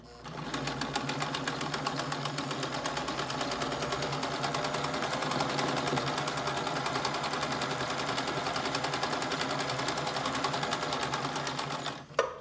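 Viking Husqvarna 21CLA sewing machine stitching a multi-point zigzag at its widest setting, a fast steady mechanical chatter running continuously and close for about twelve seconds before stopping abruptly.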